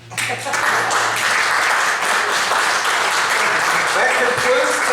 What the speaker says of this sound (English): I think we should give Jeff a round of applause for his first match.